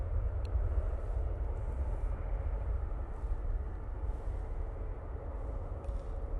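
TUI Boeing 737 MAX 8 jet at Manchester Airport, a steady broadband engine roar held at a constant level throughout, sounding at moderate distance with no voices.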